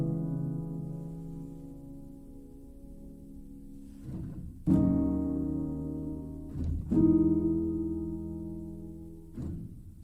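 Kontakt piano sample with low-cut EQ and wide stereo spread, playing soft sustained chords with a few sharper struck notes, moderately quiet and alone.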